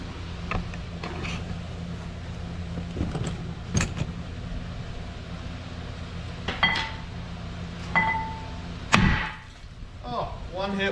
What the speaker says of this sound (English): I'm going to take a few swings at it with a hammer.